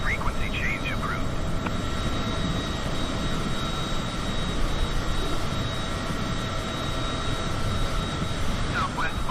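A Cessna's engine in Microsoft Flight Simulator 2020 drones steadily and loudly throughout, an even, continuous roar with faint radio chatter above it.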